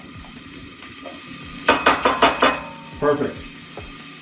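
Mirepoix goes into a soup pan with oil and is stirred with a utensil, giving a quick burst of five clattering scrapes and then a couple more under a low sizzle, with a brief spoken word.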